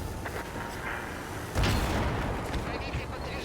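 An artillery shell strikes a T-22 sr. medium tank in World of Tanks: a single heavy, booming impact midway through, rising over a steady rumble of battle noise.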